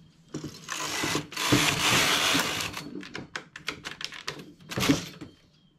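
A knitting machine carriage is swept back and forth across the rows, rattling and clacking in bursts with short pauses between passes, close and fairly quiet.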